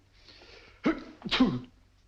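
A single close sneeze, a short sharp intake followed by an explosive burst, in an otherwise quiet setting.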